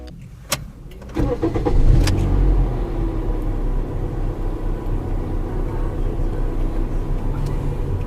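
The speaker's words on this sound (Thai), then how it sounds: "พาไปฟังเสียงเครื่องยนต์กันนะคะ" A 2013 Toyota Vios 1.5 E automatic starts with a brief crank and then idles with a steady low rumble, close by, after a few clicks at the start.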